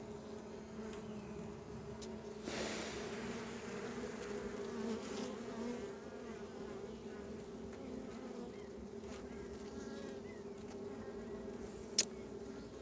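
Honeybees buzzing with a steady low drone around a swarm hive during an inspection, continuous and moderately near, with a brief sharp knock near the end.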